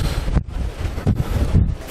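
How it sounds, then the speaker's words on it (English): Strong gusty wind buffets the microphone with a continuous low roar and rumble, surging in bursts, close and loud with no talking. "And it's very windy."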